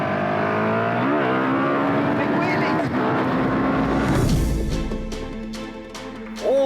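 A KTM 1290 Super Duke R V-twin motorcycle rides hard, its engine note loud and close with rising and falling revs, a sharp burst of acceleration, and quick crackling pops near the end.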